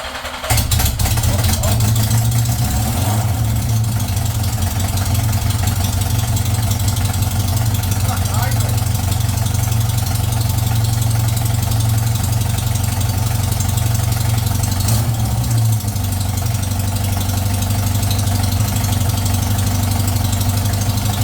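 A Yamaha XJ900F motorcycle engine idles steadily right after its first start-up, loud and close with a deep, even throb that holds for the whole stretch, with a brief dip near the middle.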